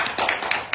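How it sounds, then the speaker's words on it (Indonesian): Brief scattered clapping from a small crowd at a gathering outside the KPK building in Jakarta, a few loose claps over less than a second. "Tepuk tangan sekali lagi buat kawan kita"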